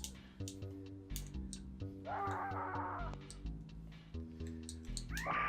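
A cartoon cat meows in the Earthworm Jim video game, a couple of drawn-out whiny cries rising over bouncy, looping game music and scattered sound effects.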